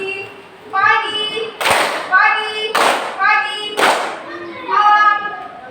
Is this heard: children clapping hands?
yes